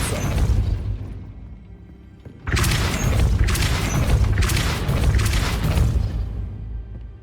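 Depulso spell cast in the video game Hogwarts Legacy to push a gate: after a steady low game ambience, a loud booming burst hits suddenly, followed by rolling, rumbling impacts that stay loud to the end.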